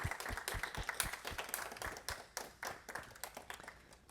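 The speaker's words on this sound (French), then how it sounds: "t'applaudir si on a la force." An audience claps steadily at the close of a French-language DevOps talk, a dense run of hand claps that stays moderately loud and fairly even throughout.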